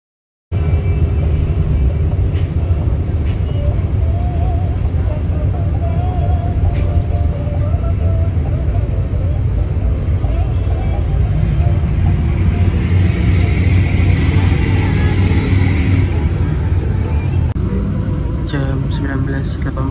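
Inside a bus crawling through a traffic jam near Karawang, a constant loud low rumble of engine and road noise fills the cabin from start to finish, with little change in pitch.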